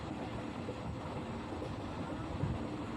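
An express train runs on rails without stopping, heard from near the open carriage door as a steady, fairly quiet rumble and rattle with no clear voices.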